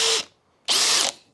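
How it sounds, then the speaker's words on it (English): A cordless drill runs on low speed in two short bursts, a loud close whine that spins up, holds briefly and cuts off, with a pause between the runs. "I think this drill is actually faster than this one is"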